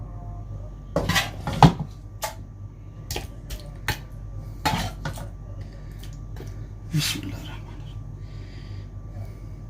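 Mutton curry (salan) is ladled into a biryani rice pot, giving intermittent close metallic clinks and scrapes of ladle against pot, with soft background murmuring.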